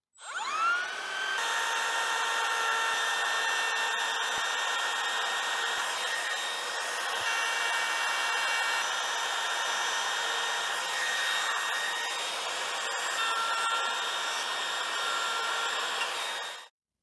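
A Makita DRT50 cordless trimmer router cutting into a clamped wooden board, a loud, steady high-pitched whine running continuously from spin-up to a brief cutoff at the end, with no talking.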